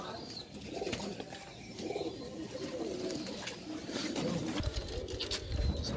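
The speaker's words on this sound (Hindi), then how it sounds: "मुन्ना भाई जो उस्ताद हैं यहाँ के टोंक के, वो बता रहे हैं इस कबूतर की चोंच के बारे में आपको" Pigeons softly cooing and shuffling in a loft amid a noisy, busy background, fairly quiet and continuous with no talking.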